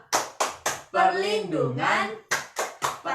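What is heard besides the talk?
rhythmic hand clapping game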